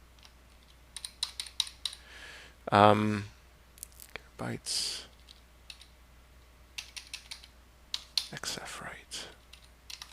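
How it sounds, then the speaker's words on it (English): Typing on a computer keyboard produces quick clusters of sharp key clicks in a quiet room, broken up by brief muttered and whispered speech. "We did not change keyboard.c as xf right."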